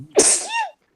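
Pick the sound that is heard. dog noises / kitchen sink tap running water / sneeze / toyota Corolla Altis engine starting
sneeze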